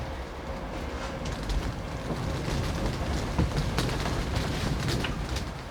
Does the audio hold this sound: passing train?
yes